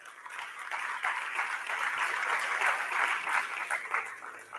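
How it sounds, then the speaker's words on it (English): A crowd applauding steadily, a dense wash of many hands clapping at even loudness for several seconds before easing slightly at the end. "you deserve a round of applause"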